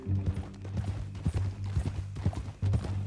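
Horse hooves clip-clopping in Red Dead Redemption 2, a steady close rhythm of hoof strikes with faint gear and tack noises, alone without talk.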